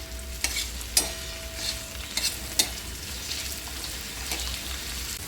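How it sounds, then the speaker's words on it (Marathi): Onion roasting in a pan for a rustic rice-leaf vegetable dish, a steady sizzle broken by several sharp spoon scrapes and taps against the pan, close up with no speech. "कांदा भाजून घेऊया आपण"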